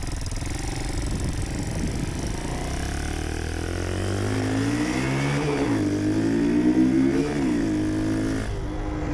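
A custom 1967 Honda CT90 motorcycle with a swapped YX140 oversquare engine revs up and down close by, its pitch rising and falling in a buzzy, steady run.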